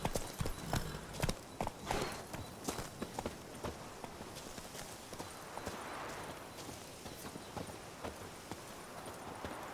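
Hooves of Geralt's horse Roach in The Witcher 3 clip-clop along at a walking pace, sharp and close at first, then settling into a steadier, softer rhythm over a game ambience.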